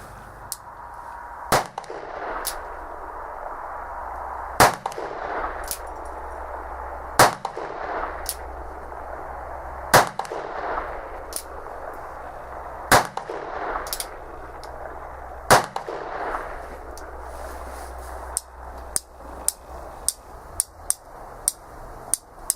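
An Uberti 1860 Army cap-and-ball revolver fires a string of sharp, loud reports spaced a few seconds apart, ending in a quicker run of lighter snaps and clicks.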